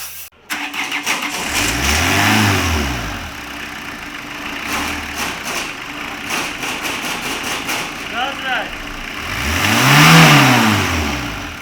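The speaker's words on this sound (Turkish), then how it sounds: "Aracımızı tekrar çalıştırdık." A 2003 Fiat Doblo engine, freshly rebuilt, starts and runs, revving up loudly twice with rising and falling pitch sweeps between a steady idle.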